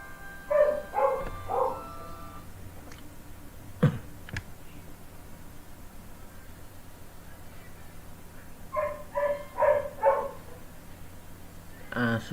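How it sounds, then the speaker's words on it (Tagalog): A dog barks in two short bursts of several yaps each, moderately near, with people talking and a few clicks in between. "aso po tumatahol"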